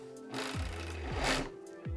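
A sewing machine runs steadily while sewing the ends of jersey strips together, a close continuous whir with a few short rising motor swells.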